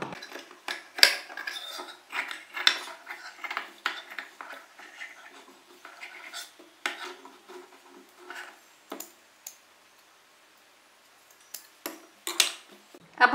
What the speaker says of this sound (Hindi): अब हम इस कपड़े के बराबर बराबर ये अंदर वाले कपड़े की कटिंग कर लेंगे।